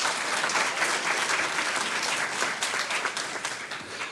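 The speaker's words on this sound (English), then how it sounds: "A round of applause for Miss Morales" A school board meeting audience applauding a teacher award, sustained clapping from many people in an indoor hall, moderately loud and even throughout.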